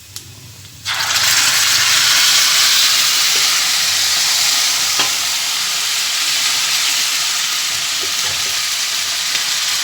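Mustard greens hit hot desi ghee with browned garlic and ginger, starting a loud, continuous sizzle and frying hiss that holds steady for several seconds, close up with no talking.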